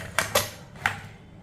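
A pressure cooker lid being set in place over soup vegetables: three quick, sharp metallic clicks and taps close by, followed by faint room quiet.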